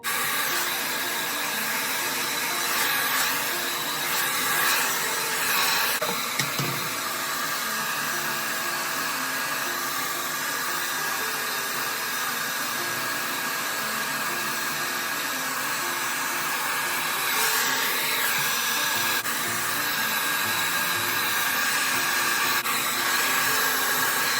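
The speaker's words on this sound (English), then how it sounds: "So I'm going to blow dry and let's get started." A hair dryer blows steadily on hair treated with heat protector, a loud continuous whoosh and whine lasting throughout with slight shifts in pitch as the airflow moves, no voices.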